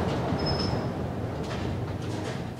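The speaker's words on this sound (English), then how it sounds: "A lot of shaft noise." Ride inside a Westinghouse/Schindler traction elevator car in a 1960s New York City building: a steady, loud rumbling roar of shaft noise, with a brief thin whine early on and no talking.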